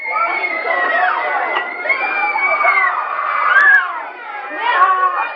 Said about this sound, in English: followed by screaming from his young siblings and others